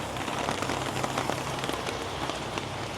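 Steady rain falls all day during the rainy season in northern Thailand, a dense, even hiss of drops that continues without letup.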